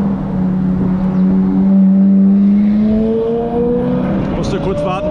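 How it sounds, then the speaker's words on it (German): A Ferrari drives past a pedestrian crossing on a Honolulu street, its loud engine note close by and rising steadily in pitch as it pulls away. "Musste kurz warten, bis der Ferrari weg ist."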